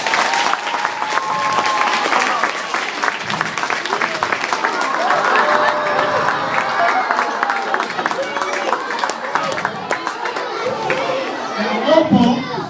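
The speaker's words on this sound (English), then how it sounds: "Give them a round of applause." Elementary school children give a round of applause, with dense clapping mixed with excited chatter and kids' voices in a lively gym-like crowd, continuing steadily before thinning near the end.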